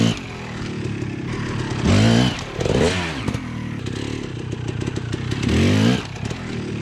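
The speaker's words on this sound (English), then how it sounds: "I'm gonna show you what I can do on the small log, like hit it with the front wheel and then with the rear just kind of jump over it" Dirt bike engine revving hard as the rider hits a small log with the front wheel and hops the rear over it, loud and close, with two sharp rising bursts of throttle and clattering between them.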